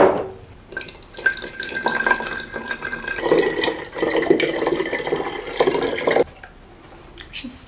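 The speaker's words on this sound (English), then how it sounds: "top up the rest with some fresh water" Fresh water is poured into glass vessels holding fiddle leaf fig cuttings, a steady trickling and splashing with drips that runs for several seconds. A voice talks over parts of it.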